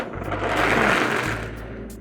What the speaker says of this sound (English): we're gonna blend it on a high speed until it's nice and creamy